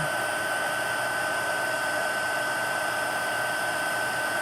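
A heat embossing tool blows hot air over a hand-stamped card, giving a steady, close, unbroken whirring rush like a hair dryer, with no talk.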